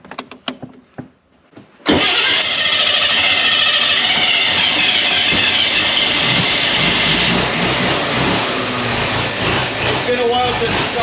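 The Blue Flame 6 in a 1954 Corvette prototype turns over with a few clicks, then catches and roars into a loud, steady idle that runs on close up, with a voice briefly over it.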